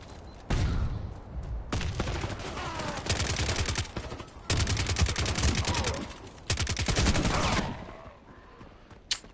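An LMG in the game Warface fires long, loud bursts of rapid automatic gunfire in four main strings separated by short pauses, with a faint echo trailing each burst.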